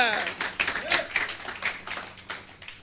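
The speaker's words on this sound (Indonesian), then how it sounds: "Berikan tepuk tangan bagi Dia." Congregation applauding during a church service, scattered, uneven clapping with a few sharp claps standing out, a voice speaking over it near the start.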